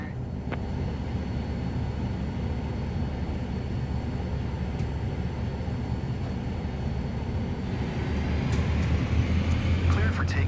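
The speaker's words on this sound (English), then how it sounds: "Cleared for takeoff runway 9er." Cirrus Vision Jet spooling up for takeoff in Microsoft Flight Simulator, a steady jet engine roar that builds slightly toward the end, with radio talk over it.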